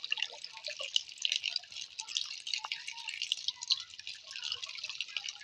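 Khai pham (wolffia) being washed by hand in water: continuous close trickling, dripping and light splashing, fairly soft and unbroken throughout.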